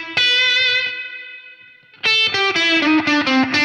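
An electric guitar runs through a plate reverb setting on a Source Audio pedal: a sustained chord rings out and decays in a smooth wash, then a series of bright, distorted chord stabs follow, each trailing a shimmering tail.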